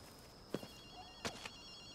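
A telephone rings in short, repeated electronic trills inside Ghostwire: Tokyo, sharp and bright against a quiet ambient bed, with a few brief clicks in between.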